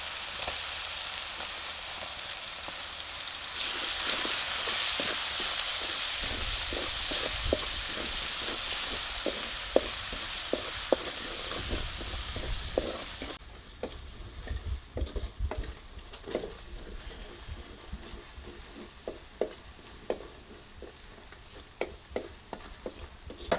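Grated onion hits hot oil in a pan for gunda (gumberry) curry, giving a loud, steady sizzle broken by repeated stirring scrapes and taps, after which it settles to a quieter frying hiss.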